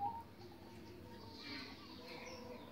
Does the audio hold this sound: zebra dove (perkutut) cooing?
yes